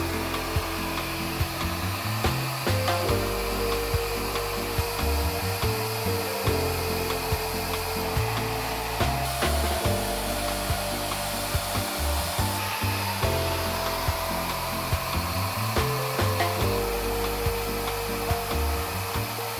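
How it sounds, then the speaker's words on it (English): Hair dryer with a diffuser on heat 2 and airflow 2, scrunch-diffusing curly hair held upright; a loud continuous blowing roar with soft rubbing and repeated shifts in tone as sections are held and released. "I'm going to be scrunch diffusing upright"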